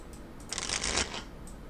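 A deck of playing cards is riffled in one quick, crisp burst of about half a second during a tabletop game, close and fairly loud, with quiet handling before and after.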